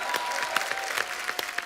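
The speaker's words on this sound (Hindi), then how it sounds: "जोरदार तालियां नेहा के लिए।" Loud, sustained applause from a TV comedy show studio audience, dense clapping throughout with no break.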